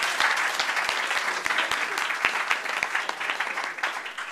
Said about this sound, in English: Right, so let's give Chris a round of applause.